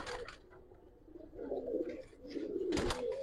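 Pigeons at a market coo softly in low, rolling phrases, with a few soft rustles and flutters in between and no talking.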